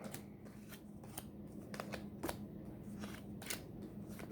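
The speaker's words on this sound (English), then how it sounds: "So flip the cards and sort." Playing cards flipped one by one and sorted into three piles on a table, a steady run of soft, crisp snaps and slaps, close and fairly quiet, with no voices.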